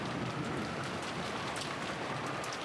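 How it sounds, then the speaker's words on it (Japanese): Heavy rain falling outside in the visual novel game Umineko: a steady, even hiss of downpour that stays constant throughout, with no voices. "外はまだだいぶ雨が強いのでお気をつけください。"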